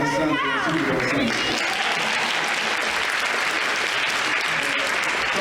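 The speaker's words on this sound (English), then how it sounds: "Give a round of applause to yourself for being on Sunday" A large audience at a keynote speech applauds steadily, a dense wash of clapping filling the whole stretch at even loudness, with a brief voice at the very start.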